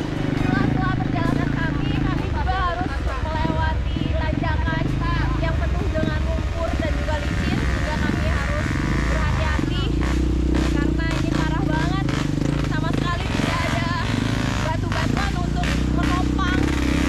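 Motorcycles strain up a steep, slippery slope of roughly 40 degrees in Papahan, Indonesia, engines running loud and continuous with uneven revving, accompanied by clattering and background voices.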